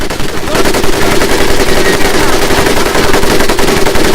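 Sustained automatic bursts from an M1919A4 .30 caliber machine gun in the Medal of Honor Pacific Assault video game, a loud, continuous rapid clatter of shots lasting the whole stretch with no talk over it.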